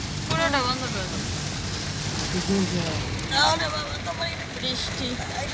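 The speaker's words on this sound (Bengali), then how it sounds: "হঠাৎ করে এত জোরে বৃষ্টি।" A sudden heavy downpour in Kolkata hisses as a dense, continuous wash of rain, with people talking over it throughout.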